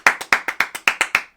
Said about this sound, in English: So one more round of applause for Scott